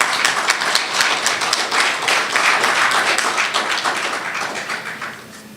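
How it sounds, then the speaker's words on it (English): An audience at a formal ministry event applauds, with dense, steady clapping from many hands that holds for about five seconds before thinning and fading out. "we must recognize and again applaud the members"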